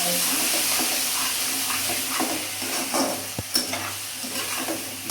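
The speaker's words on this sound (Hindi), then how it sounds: "जो मसाला मैंने पीस के रखा था, मैं उस मसाले को डाल के इसको अच्छे से चला दूँगी" Freshly ground masala stirred into a frying amaranth stem curry, making a dense, close sizzle with repeated spoon strokes and scrapes and a sharp knock midway.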